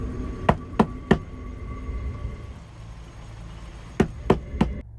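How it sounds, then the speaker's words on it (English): Loud knocking on a camper van at night: a sharp group of three knocks, a pause, then another group of three, each knock close and resonant against a quiet background. "Out of nowhere, 2 loud knocks echoed through her van."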